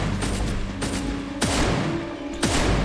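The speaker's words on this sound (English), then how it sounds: "the explosion is quite heavy hitting there" A heavy explosion in the action RPG The Incredible Adventures of Van Helsing, while fighting werewolves, hitting as a few sharp booming blasts over a dense, rumbling combat background.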